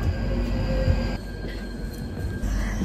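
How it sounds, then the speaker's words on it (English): Steady rumble of a London Underground Northern Line train running near Brent Cross, with a continuous low roar and a high whine, loud and close throughout. "We're the only people on the train. Northern Line train."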